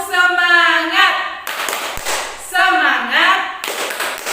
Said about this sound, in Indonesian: Anak-anak sudah bisa tepuk semangat.